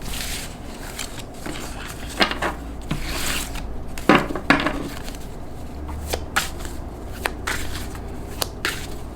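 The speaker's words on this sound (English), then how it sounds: "I'm actually going to shuffle this." Deck of tarot cards shuffled by hand at close range, with repeated rustling riffles and soft slaps in uneven bursts, alone without talk.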